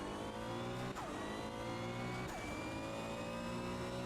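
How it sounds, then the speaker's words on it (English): Race car engine in the sim racing game Automobilista 2 drones steadily at high revs with rising and falling pitch across gear changes, continuous and fairly close, with no talk. "The engine sound makes you excited."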